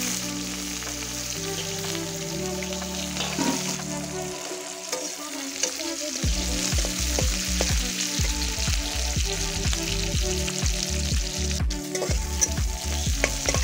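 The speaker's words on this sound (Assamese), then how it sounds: "পাঁচফোৰণখিনি ফুটাৰ পিছতে পিঁয়াজ জলকীয়াখিনি মই দি দিলোঁ" Onion and green chili fry in hot oil with panch phoron, a steady close sizzle with rapid crackling pops and repeated low knocks from a spoon stirring the pan.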